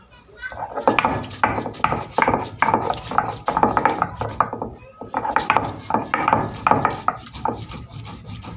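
Amla (Indian gooseberry) with its seeds removed and onion are ground together by hand, giving a run of close, rhythmic rasping scrapes that pause briefly midway and then resume.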